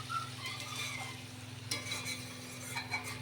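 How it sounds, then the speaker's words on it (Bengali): Potatoes sauté in a pan with ground onion paste, cumin powder, chili powder, green chili, salt and turmeric for a fish curry: a soft, steady sizzle with light stirring scrapes, quiet and close, with no talk. "এখন আলুটা কষিয়ে নেব ভালো করে"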